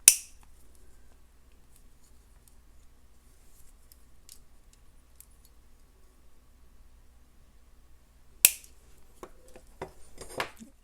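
Excess beading wire is snipped after crimping for a multi-strand necklace. Two crisp, close cuts sound, one at the very start and another about eight seconds later, with near silence between.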